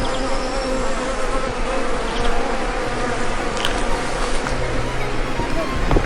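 Bees buzz in full force outdoors in a charming small town in Benicia, California, a dense continuous drone of many insects close by, with faint voices underneath.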